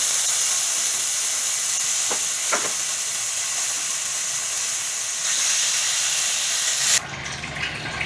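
Meat dropped into a hot pan, a loud continuous hissing sizzle that holds steady for several seconds before dropping away sharply near the end.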